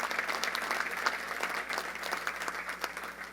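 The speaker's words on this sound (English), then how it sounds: "Let's give him a round of applause as we start our panel portion of the program." Audience applause for a panelist as the panel portion of a JLS program begins: steady, dense clapping from a sizable crowd, continuous and moderately loud throughout.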